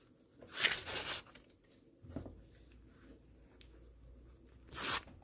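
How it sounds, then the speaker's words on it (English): Paper foundation pieces are ripped off a quilt block in two sharp, close tearing bursts a few seconds apart, with soft handling noise in between. "take the paper pieces off"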